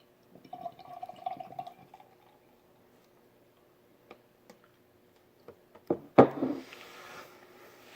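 Amber ale is poured into a glass in a short, splashy burst near the end, after mostly quiet stretches with faint ticks and clinks.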